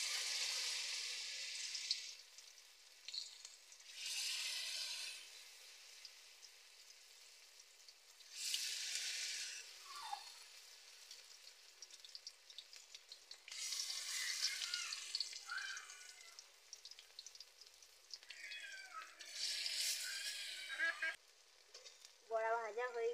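Spiced, thickly mixed banana flower fritters dropped into hot oil in a village kitchen, giving bursts of loud crackling sizzle that swell and fade repeatedly, with quieter bubbling between the bursts.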